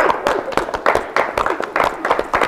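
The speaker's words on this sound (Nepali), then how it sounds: "ताली ताली ताली" A crowd at a blind-date show grand finale claps in sharp, rhythmic bursts under loud chanting voices. The claps fall in repeated regular groups.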